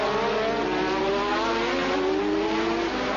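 A Formula One race car at the 1986 British Grand Prix, a continuous high engine whine holding steady and slightly rising, loud and close with no talk.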